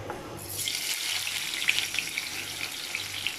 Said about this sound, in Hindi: जिस ऑयल में मैंने चिकन को फ्राई किया था इसी के अंदर मैं वेजिटेबल्स ऐड कर रही हूँ।